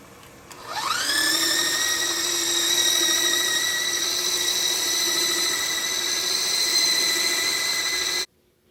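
Electric hand beater whipping ground, soaked urad dal batter for medu vada, spinning up with a rising whine into a steady, loud motor hum that holds for several seconds before cutting off abruptly.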